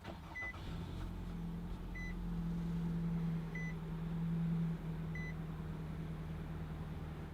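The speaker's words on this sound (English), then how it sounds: "To start the car, all you have to do is have the key inside with you, and you just put your foot on the brake" Push-button start in a 2016 Nissan Rogue SL: four evenly spaced electronic chimes inside the cabin, followed by the engine settling into a steady low hum and idle.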